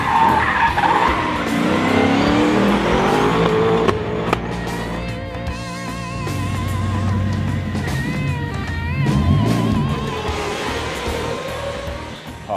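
Car engine and tyres while driving, a loud continuous roar with squealing, skidding tones rising and falling throughout, as in a drift, with no talk.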